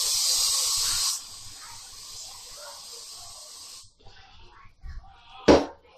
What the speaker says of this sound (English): Keeps my hair in place because that is what hairspray's supposed to do, right?